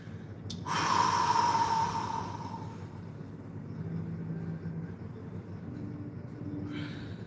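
A loud, close inhale, a big deep breath drawn in sharply and held for about two seconds, then fading into a quieter steady background hum.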